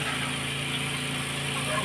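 A water pump engine on a farm runs at an even, unbroken idle, a steady low throbbing drone close by, with people talking over it.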